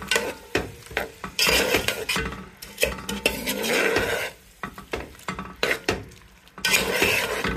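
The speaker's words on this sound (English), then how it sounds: "You just keep on stirring it" A utensil stirs and scrapes food around a cooking pan, with continual clatter and knocks against the metal over a frying sizzle, loud and close, with no talking.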